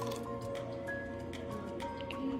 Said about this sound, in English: Here's the second tablespoon of hot water.